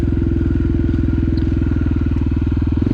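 A motorcycle engine revs hard and close during a wheelie, a loud, rapid pulsing throb that holds steady for three seconds and swells slightly at the end, with no talking.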